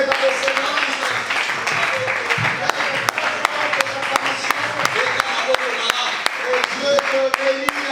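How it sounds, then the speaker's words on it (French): A seminar congregation applauds and acclaims during worship, with continuous clapping and sharp individual claps running beneath a voice and sustained tones. "Élève encore tes acclamations"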